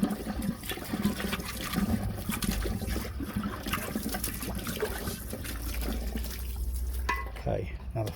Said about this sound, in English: Right, so flush coming out.